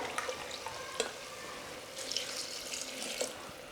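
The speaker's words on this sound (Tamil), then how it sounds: "இதே டம்ளரில் 2 டம்ளர் தண்ணி ஊற்றுறேன்" Water runs and splashes steadily from a tumbler into a pot of rice, with a few small clinks and knocks along the way, fairly quiet and close.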